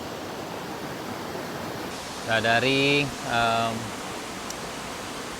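Bayang Sani waterfall at its second tier in Pessel: a steady, broad rushing roar of falling water runs throughout, with someone talking briefly partway through.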